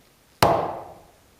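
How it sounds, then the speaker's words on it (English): A single sharp strike of a mallet driving an old 1 inch wide chisel into wood while shaping a wooden joiner's mallet, a close, loud knock that rings and fades over about a second. "I had a 1 inch wide chisel that I'm going to see if I can use to chisel this out"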